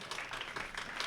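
Crowd applause for a speaker at a SecKC security meetup: a dense, steady patter of many hands clapping, close and even, lasting about a second with no voices over it.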